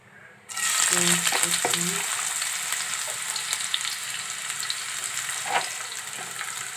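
Cumin seeds hit hot oil in a pan for an egg and snake gourd stir-fry, bursting into a loud, close sizzle. A few brief stirring knocks sound early on, and the frying then continues steadily.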